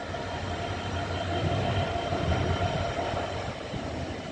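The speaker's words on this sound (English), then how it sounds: "66, Light Loco 66. Looks like it's a DRS 66." A DRS class 66 light locomotive passing on the West Coast Main Line at Rugby, a loud continuous rumble and rolling roar of engine and wheels held steady throughout, with no talking.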